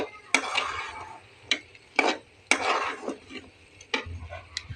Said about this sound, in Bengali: বন্ধুরা দেখো আমি সুন্দর করে কষিয়ে নিচ্ছি, আরও ভালো করে কষাবো।